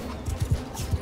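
Cavalry horses charge in Mount and Blade II Bannerlord, several quick hoof thuds beating in a short rhythmic burst over a faint battle bed.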